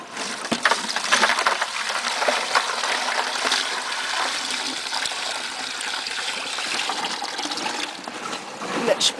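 Water is poured out to rinse cleaned animal skulls, a continuous splashing, gushing flow with brief trickles and spatters, heard up close for several seconds.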